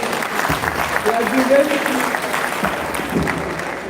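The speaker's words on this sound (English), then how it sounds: "A round of applause for him." Steady clapping from a group, a moderate wash of applause lasting a few seconds with a voice faintly under it.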